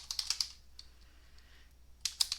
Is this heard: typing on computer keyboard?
yes